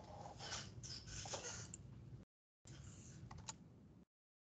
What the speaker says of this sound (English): I'm typing in the word minus because if you type in a minus symbol, we're going to want a number.